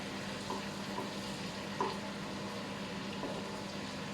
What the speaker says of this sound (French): On fait rissoler l'oignon.